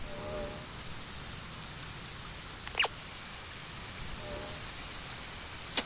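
Steady, faint rain hisses in the horror video game Rake, with a couple of brief squeaky chirps over the constant patter.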